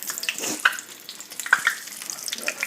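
Crackling sizzle of food frying in hot oil, with brief sharp pops scattered across the clip.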